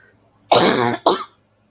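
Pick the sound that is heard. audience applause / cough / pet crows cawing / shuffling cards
cough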